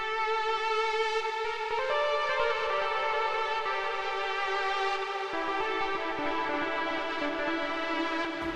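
A synth lead plays an R&B melody, rich in harmonics, with sustained notes that step through a few pitches over a steady tone, fairly quiet and heard alone.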